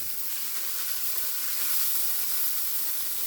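Lentils tossed with baharat, salt and cumin toasting in a hot pan give off a steady, close sizzling hiss that holds even and unbroken throughout, with no voices.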